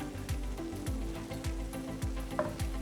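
Potato sticks frying in hot oil, a steady close sizzle with a regular series of soft low thumps about every half second, like stirring or turning the sticks in the pan, no talk.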